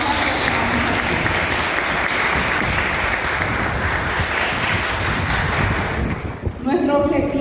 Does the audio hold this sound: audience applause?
yes